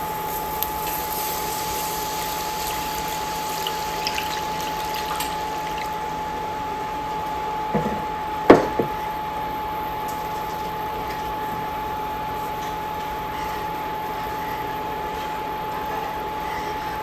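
Tap water pours steadily into a cooking pot of chili con carne for enchiladas, a continuous soft rushing hiss with a single brief clank partway through.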